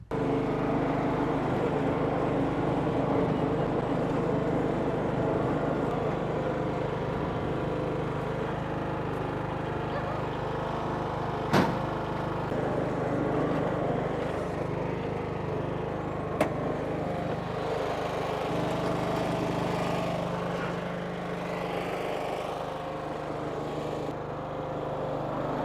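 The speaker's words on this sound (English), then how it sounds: "hook it up to the little lawnmower?" A lawn mower engine drones steadily and close by for the whole stretch, with two brief sharp clicks partway through and no talking.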